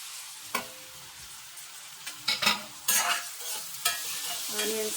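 Onions frying in oil in a pan as a paneer masala begins, with a low sizzle broken by several loud spatula scrapes and clanks as they are stirred, close and with no voices.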